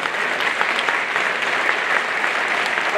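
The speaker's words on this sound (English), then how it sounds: "Round of applause." An audience applauds at a holiday extravaganza show. The clapping is loud, dense and continuous for the whole stretch, with no talking over it.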